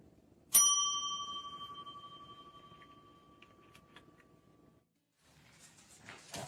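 A single bright ding of a service bell struck once, ringing clearly and decaying slowly over several seconds in a quiet room, followed by faint soft rustling.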